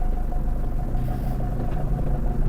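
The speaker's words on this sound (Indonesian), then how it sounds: "7 ton truk lewat 7 ton masih lewat ya" A seven-ton truck rolls past on a road in rural Riau, Indonesia, giving a steady, loud low rumble with an engine drone that holds for the whole stretch, with no speech over it.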